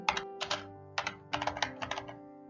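Keys on a computer keyboard are tapped in quick uneven bursts as a command is typed into a terminal, crisp close clicks with short pauses between groups.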